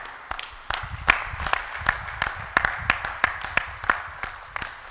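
A congregation claps during a French-language Christian worship service, sharp individual claps landing in an uneven, loose rhythm over a soft room background, moderately close.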